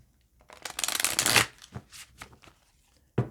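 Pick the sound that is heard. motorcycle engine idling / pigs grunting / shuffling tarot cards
shuffling tarot cards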